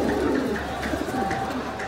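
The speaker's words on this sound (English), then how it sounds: "So this is a carrier pigeon," A carrier pigeon coos softly in a steady, continuous murmur, close by, over a busy background hum.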